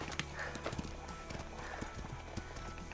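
Horse hooves clip-clopping at a steady walking rhythm, close and fairly faint, over a busy background bed with a hint of a whinny.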